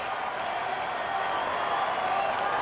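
A baseball crowd roaring at PNC Park in Pittsburgh, a steady dense wall of cheering and applause lasting throughout, with no break.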